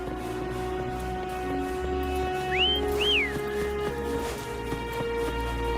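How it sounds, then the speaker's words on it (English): A character in the game Wuthering Waves whistles to call a companion: two short rising whistles over a steady in-game ambient bed. "Try whistling."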